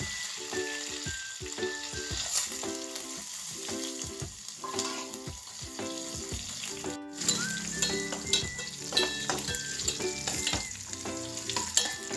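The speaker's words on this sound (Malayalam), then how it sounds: "കുറച്ച് വറ്റൽമുളകും കുറച്ച് ചുമന്നുള്ളി അരിഞ്ഞതും കറിവേപ്പിലയും ഇട്ട് നല്ലോണം മൂപ്പിച്ച് എടുക്കുക" Dried red chillies, chopped shallots and curry leaves fry in hot oil in a pan for a mango curry, a steady close sizzle with occasional stirring clinks and no talk.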